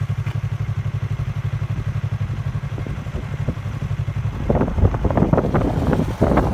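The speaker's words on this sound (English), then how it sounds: "I'm riding my motorcycle" Steady low motorcycle engine drone while riding around Big Bear Lake, California, before a winter storm, with wind buffeting the microphone, then louder clattering rumble and gusts in the final seconds, close and continuous.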